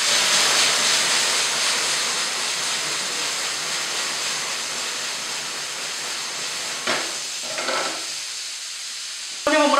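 Chicken and potato pieces sizzling in a hot pan for a chicken stir fry, a steady close hiss and crackle of frying with a few brief utensil clatters near the end.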